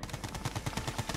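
Rapid machine-gun fire from the strategy game Red Alert 2: Yuri's Revenge, a quick steady rattle of evenly spaced shots, fairly faint and continuous with no talking.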